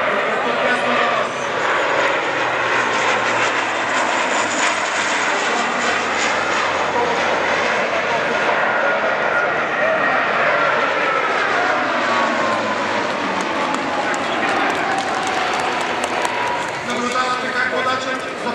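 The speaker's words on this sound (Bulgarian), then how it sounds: "В същото време воденият самолет изпълнява завой надясно." A large C-27J military transport propeller aircraft roars steadily overhead at an air show, turning right at low altitude with a loud engine drone, while someone speaks over the noise throughout.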